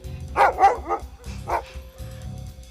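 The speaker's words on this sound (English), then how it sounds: "The Colonial quickly returned to the Captain's stable and loudly barked the good news." A dog gives a quick run of loud, close barks, three in a row, then a single bark, followed by softer low yips and whines.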